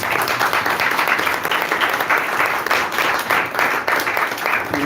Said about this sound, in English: We can clap for.